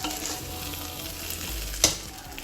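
Coconut oil sizzles in a pot while jollof rice is being cooked. A faint, steady hiss plays under a single sharp clack from the pot or spoon.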